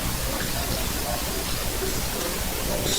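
Water fed pole spraying and rinsing a window pane, a steady close wash of running water and spray hiss throughout, with no talking.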